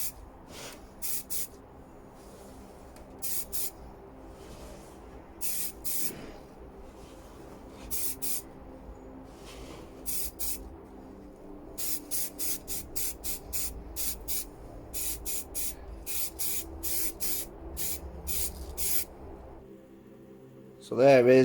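Short bursts of spray paint hiss onto RC truck parts for a first coat, many quick separate sprays in irregular rhythm, close and sharp against a quiet background.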